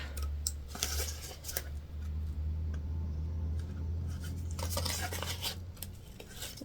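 Scissors snipping thread while sewing a fabric sling, a few quick, crisp cuts in two clusters over a low, steady background hum, close and fairly quiet with no talking.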